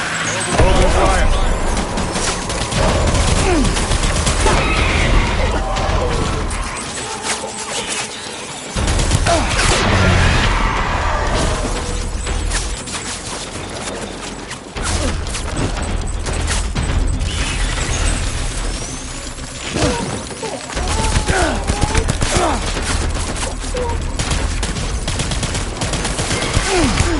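Sustained bursts of gunfire, rapid automatic volleys and overlapping shots, loud and close, continuing almost without pause, with brief lulls and a few heavier booms among them.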